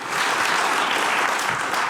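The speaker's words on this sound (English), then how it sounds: "still a round of applause. Let's do that now" An audience at an award presentation gives a round of applause, a dense, even burst of clapping filling the whole brief moment without talk.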